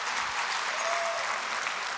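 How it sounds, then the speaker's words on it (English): A community audience applauds for Roy J. and Project Clean Slate, a continuous, full burst of crowd clapping throughout. "let's applause for Roy J."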